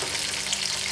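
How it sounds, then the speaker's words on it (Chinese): Scallion and ginger stir-fry in a hot wok, giving a brief, dense, even sizzle heard up close with no talking. "先炒葱姜"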